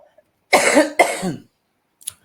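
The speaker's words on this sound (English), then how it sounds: "I'm coughing away still." A person coughs twice in quick succession, loud and close, then a short faint throat sound follows after a brief silence.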